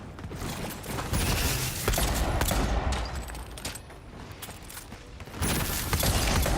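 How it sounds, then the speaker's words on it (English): Artillery barrages in the video game Avowed pound in dense, rumbling bursts with crackling debris, loud and continuous with brief swells. "Dude's launching artillery barrages from up there."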